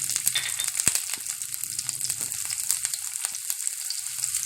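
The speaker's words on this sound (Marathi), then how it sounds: "तेल तापले चांगलं। त्याच्यामध्ये आता मी लसूण घालून घेणार आहे। हिरवी मिरची घालते" Garlic and green chillies sizzle in hot oil in a pan, a steady close crackling hiss with small pops and no talking.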